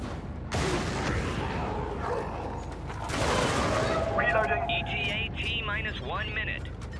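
Incoming fire in the co-op shooter Helldivers during a shuttle extraction, with dense bursts of gunfire and blasts at the start and middle, followed by whistling effects and game voice lines over the din.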